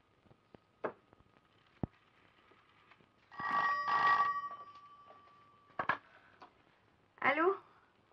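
A telephone rings in two separate bursts, the first longer and the second short, loud against a quiet room with occasional faint clicks between them.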